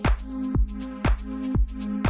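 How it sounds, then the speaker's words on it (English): Pumping house music groove with a steady four-on-the-floor kick; sustained chords duck sharply after each beat and swell back, giving a heavy breathing rhythm. "styles of house music, they go really heavy on the sidechain, so it sounds like this."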